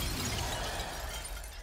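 An object smashes to pieces in the video game MediEvil, a dense broadband crash that stays loud and scattered across the short span with no voices over it.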